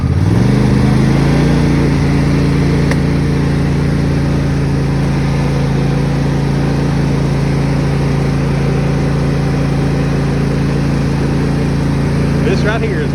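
A John Deere S130 lawn tractor runs with its mower deck engaged, a loud steady engine drone with deep harmonic hum revving up at the start and holding constant, close to the listener, with a voice speaking over it.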